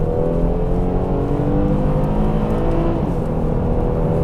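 A Mercedes-Benz W212 all-wheel-drive car's V6 engine revs and accelerates with a loud, sustained growl and rising whine, close and continuous, with no talking.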